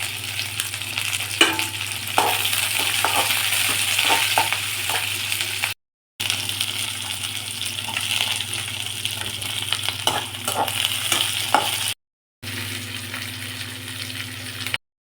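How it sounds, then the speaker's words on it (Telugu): Garlic and onions fry on a high flame for chilli chicken, sizzling steadily and loudly close by, with stirring scrapes and two brief silent breaks. "ఎల్లిపాయలు, ఇవన్నీ హై ఫ్లేమ్ మీదనే వేసుకున్నాలండి. ఫటాఫట్ అన్నీ వేపుకోవాలా."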